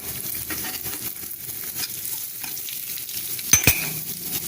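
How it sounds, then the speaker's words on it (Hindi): Fenugreek seeds hit hot oil for a spicy mango pickle and sizzle with a steady, close hiss, broken near the end by a couple of sharp crackling pops. "ये तेल हमारा गरम हो गया है और हम इसमें ये मेथी डाल देंगे"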